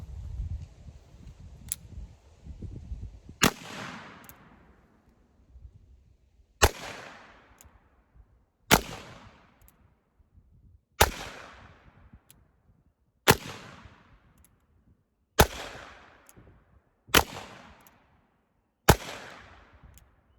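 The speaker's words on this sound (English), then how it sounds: "Dual wielding, 1851 Navies, one in black powder by Pietta, one in 38 special by Cimarron" Eight sharp gunshots from two 1851 Navy revolvers fired alternately, one Pietta loaded with black powder and one Cimarron Richards-Mason in .38 Special, each crack loud and close with a ringing decay, spaced roughly two seconds apart after a few quieter handling clicks.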